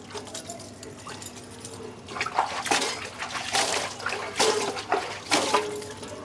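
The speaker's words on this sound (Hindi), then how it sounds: "अभी मैं बर्तन साफ़ कर दूँ" Dishes are washed by hand with water scooped from a bucket, giving splashing, pouring and clattering in uneven bursts that get busier midway, close by and with no talking.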